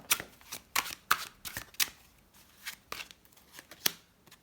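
Tarot cards are handled, shuffled and laid down on a table for a reading, giving a string of crisp, close papery snaps and slides in uneven bursts, with no talking.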